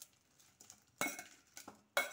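Peeled bananas being mashed in a bowl for a ragi sweet, with a few soft squishes and three sharper clinks of the utensil against the vessel, quiet and close with no talking.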